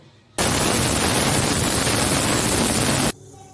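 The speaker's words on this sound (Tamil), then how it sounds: "இப்போது ரெண்டு விசில் வந்துச்சு" A pressure cooker vents steam while chicken biryani cooks: one loud, steady, broadband hissing burst of about three seconds that starts and stops abruptly, heard alone with no talking.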